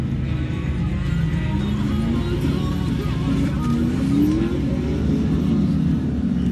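Turbocharged car engine revving out on sand dunes, a steady loud mechanical drone with rising and falling pitch sweeps as the revs climb, continuous throughout with faint voices underneath.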